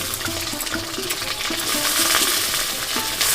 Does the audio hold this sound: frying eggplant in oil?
yes